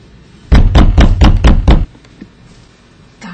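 Six loud, close raps on a door come in a quick, even burst, followed by quiet room tone.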